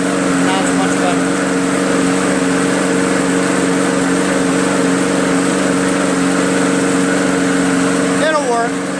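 Briggs & Stratton 300E engine on an MTD Yard Machines 20-inch push lawn mower with a freshly cleaned carburetor, running loud and steady at close range with a constant droning hum throughout.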